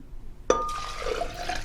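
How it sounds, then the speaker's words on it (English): After a brief quiet, spring water is suddenly poured into a blender, a bright splashing gush followed by a steady trickling pour with a rising, ringing fill. "We'll start with a cup of spring water"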